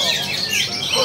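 Oriental magpie-robin (kacer) singing at an Indonesian songbird contest, a dense burst of bright chirps and whistles over steady crowd-and-aviary background noise, close and fairly loud throughout.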